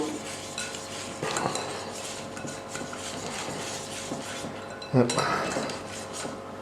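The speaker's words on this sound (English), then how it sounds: "give it a good whisk round" Flour batter for onion rings whisked in a bowl, steady rhythmic scraping and clinking of the whisk against the sides, with a louder knock near the end, close and alone.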